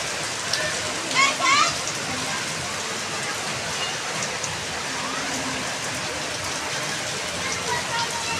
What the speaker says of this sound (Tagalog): Kung kailan ako alis, tsaka pang bumuhos yung ulan.